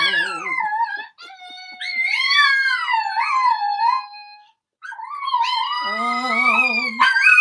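Puppies howl and whimper in rising, wavering wails that blend with human chanting, the howls swelling and pausing briefly, close and fairly loud.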